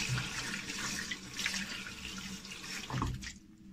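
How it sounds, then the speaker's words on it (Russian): Hands are washed under a running tap at a sink, with a steady close rush of water splashing and shifting before it tapers off near the end. "теперь мою руки"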